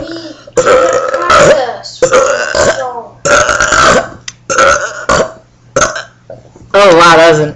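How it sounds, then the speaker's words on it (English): Long, loud burps rasp out one after another in a burping contest between siblings, including a 10-year-old brother, each croaking belch separated by short gaps and ending in a drawn-out gurgle. "Oh wow, that was an interesting burp"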